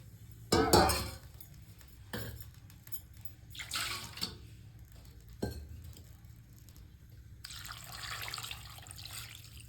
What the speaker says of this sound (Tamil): கறி முழுகிற அளவுக்கு தண்ணி ஊற்றிக்கலாங்க